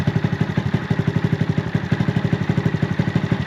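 A Honda Grom motorcycle fitted with an inexpensive aftermarket exhaust idles close by, its single-cylinder engine putting out a rapid, even, throbbing putter alone.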